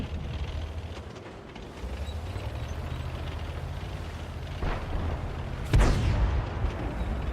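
A tank cannon firing in a tank video game, one heavy boom rising out of steady engine rumble and battle noise, with a sharp blast near the end followed by a ringing decay.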